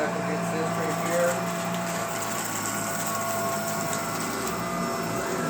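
A Shark Rotator vacuum cleaner runs steadily close by, a continuous motor whine with broadband suction hiss as it picks up debris, and a person talks over it.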